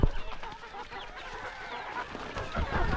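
A flock of chickens clucking and chattering continuously close by as they are fed, with overlapping calls and a low rumble of background noise.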